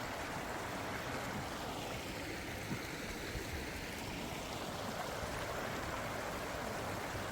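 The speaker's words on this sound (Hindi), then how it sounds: "ये नदी बहती हुई यहाँ से काफ़ी अच्छी लग रही है, काफ़ी शांत है।" The Baspa river flowing near a bridge in the mountains, a steady, soft rushing of water that stays even and distant throughout, with no voices.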